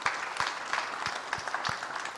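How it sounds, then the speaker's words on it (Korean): A church congregation at a revival service claps to welcome a visiting elder, heard as scattered, uneven hand claps at a moderate distance, fairly soft and without voices over them. "우리 환영하는 박수 한번 하겠어요"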